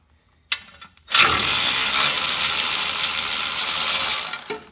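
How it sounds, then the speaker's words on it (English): Ratchet wrench spinning galvanized bolts out of a rear differential support bracket on a 2003-2017 Ford Expedition, a loud continuous metallic whirring for about three seconds after a brief clunk, then stopping. "We should be able to use my ratchet now. Let's go ahead and zing these out."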